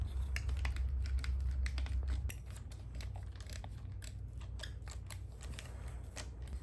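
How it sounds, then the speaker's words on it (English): A tough plastic back stock being worked off a shotgun: close, crisp clicks, snaps and scraping in an irregular run with a low steady hum underneath, and no voices. "We're going to start by removing this back stock."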